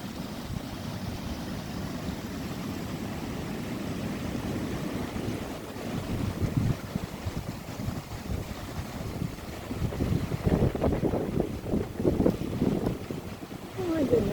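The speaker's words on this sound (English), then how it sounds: "It's a bit windy today." Wind blows outdoors on a mild February day, a steady rushing buffet across the microphone that grows gustier and louder toward the end, with no talk over it.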